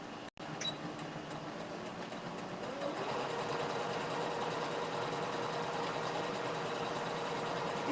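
Domestic sewing machine stitching fabric for a plastic bag holder, a steady close mechanical whir that runs continuously after a brief click at the start.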